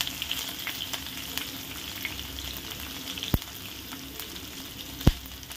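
Crushed garlic and green chilies fry in hot oil with a steady bright sizzle and crackle close by, broken by a couple of sharp knocks as the pan is stirred.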